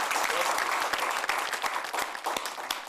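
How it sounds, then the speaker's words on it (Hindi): Audience at a Hindi shayari and poetry show breaks into strong applause, a dense, continuous clatter of many hands that stays loud and busy throughout, with no talk over it. "लेकिन आपकी हिम्मत के लिए एक बार जोरदार तालियां बजाना चाहता हूं"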